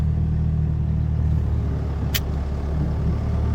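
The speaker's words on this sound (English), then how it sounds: "I'm driving round and round in circles in my pickup round a field" A pickup truck drives round and round in circles across a field, its engine a steady low rumble that holds throughout, with a single brief sharp click or tick partway through.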